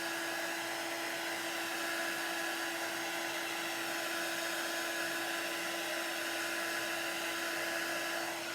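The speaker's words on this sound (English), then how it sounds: "I better just hit that with the dryer for a second." A steady, close electric whine of a hair dryer drying paint on a wooden sign, blowing continuously with an even hum and no pauses.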